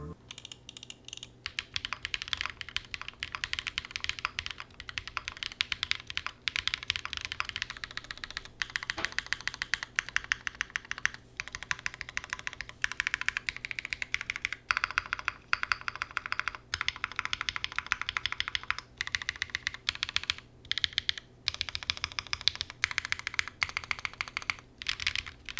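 Fast continuous typing on a large, heavy aluminum Hi-Finger 75 keyboard with Durock Poms switches on a PC plate gives dense, solid clacky keystrokes, close and steady, with brief pauses and no talk.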